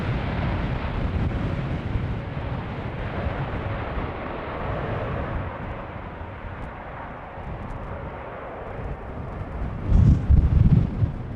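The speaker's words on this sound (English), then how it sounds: "Didn't really sound like those engines were spooling up maximally." An airliner's jet engines spooling up for departure on runway 36L at Amsterdam Schiphol on a windy day, a broad, steady roar with wind buffeting the microphone, growing louder near the end.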